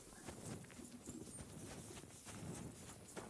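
Horse hooves gallop in Kingdom Come: Deliverance II on a dark night road, a faint, fast clip-clop pattering steadily in the distance with no talk over it.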